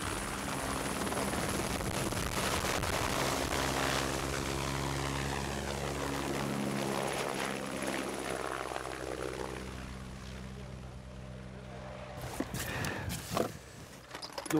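A helicopter flies in the Mont Blanc massif near the Tête-Rousse glacier, a steady close rotor drone with droning engine tones that holds loud throughout, shifting pitch slightly as it maneuvers.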